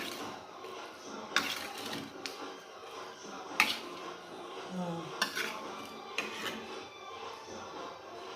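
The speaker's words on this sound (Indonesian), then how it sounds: "Lalu kita aduk." Metal utensil scraping and clinking against a pan while chicken lengko ingredients are stirred, with several sharp clanks standing out over softer rubbing and shuffling, fairly close and moderate in level.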